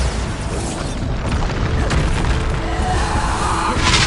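Bombarda blast spell explosions in Hogwarts Legacy rumble in a loud, sustained boom, with crashing debris layered over a dense, steady combat din and no clear pauses.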